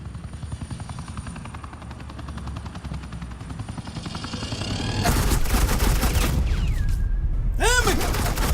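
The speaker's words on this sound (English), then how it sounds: "Suppressing fire." Gunfire erupts loud and dense over a steady helicopter drone in the Batman: The Enemy Within video game, a sustained volley of shots with a whooshing sweep near the end.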